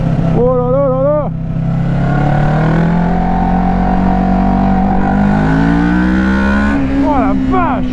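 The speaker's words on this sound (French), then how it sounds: "Oh la vache, c'est que ça accélère direct en fait" A Kawasaki ER6-n motorcycle accelerates hard, its engine note climbing and sweeping upward through the gears. The engine stays loud and close throughout, with a rider's voice exclaiming over it.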